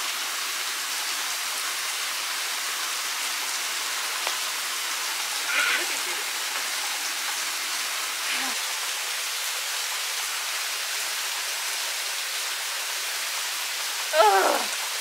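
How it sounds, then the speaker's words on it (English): Steady rain falls in a continuous even hiss, with a few faint higher chirps and taps rising briefly above the wash. "The rain came down. It's not letting up."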